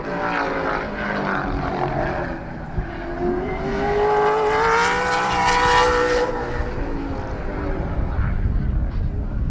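Race car lapping Midvale Speedway, engine note rising and falling as it passes close, loud and continuous with a clear pitch sweep midway and steady roar throughout.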